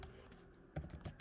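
Several quiet keystrokes on a computer keyboard come in a short irregular burst of clicks while an email address is typed, set against a faint background.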